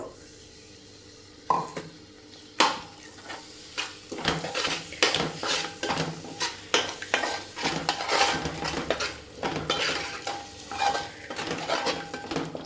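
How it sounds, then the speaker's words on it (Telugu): Half a kilo of yogurt goes into a pot of mutton biryani masala with a couple of sharp clanks, followed by steady, rhythmic scraping and stirring of the thick gravy in the pan. "హాఫ్ కేజీ పెరుగు వేస్తున్నాను"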